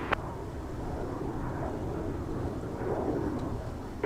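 A jet airliner takes off from runway 30 right at Minneapolis–St. Paul Airport, a steady, distant engine roar and rumble that swells slightly over a few seconds, heard alone.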